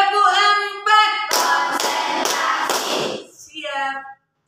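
Schoolchildren clap a rhythm pattern in a classroom, a loud run of sharp, closely packed claps grouped into accented beats, with voices speaking before and after.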